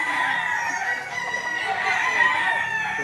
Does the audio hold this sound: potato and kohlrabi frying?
no